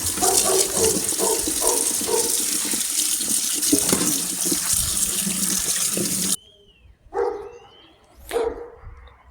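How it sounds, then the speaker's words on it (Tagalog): Tap water runs steadily into a sink as sliced button mushrooms are rinsed, then cuts off abruptly, followed by a few brief bumps and splashes; a dog barks now and then. "Slice natin ganyan, tapos hugasan natin bago natin siya lutuin."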